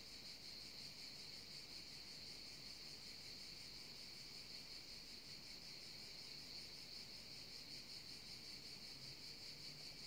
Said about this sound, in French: Entendez-vous les cigales?